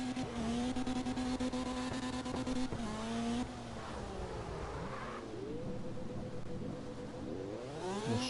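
High-revving Falcon FC 90 engine in CarX Drift Racing, a loud, sustained whine that rises and falls through shifts, with tire squeal and skidding throughout, no talking.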